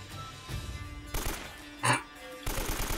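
Gunfire in Uncharted: Drake's Fortune comes as several short bursts of rapid shots separated by brief pauses, with a louder, sharper report near the middle, moderately loud against a steady game background.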